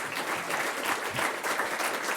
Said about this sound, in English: Let's give them all a round of applause to congratulate them